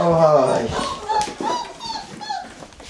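A puppy lets out high, thin whimpers and little yips up close, rising and falling in pitch, while people talk over it.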